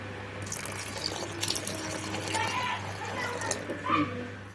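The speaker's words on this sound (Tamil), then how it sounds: "இப்ப பாலை ஊத்திக்கலாம்" Milk poured into a pot of cooking vermicelli and sago gives a continuous liquid gush, close by, over a steady low hum.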